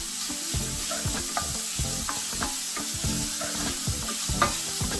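Onions sweating in a pan for stuffed pasta shells give a steady, close sizzle. Scrapes and knocks of stirring sound at an irregular rhythm, and no one talks.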